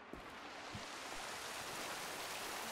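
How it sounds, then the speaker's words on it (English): A steady rushing roar of a waterfall in Sea of Thieves, a constant broadband wash of falling water with a few soft knocks underneath, moderately quiet and unbroken. "I can hear a waterfall"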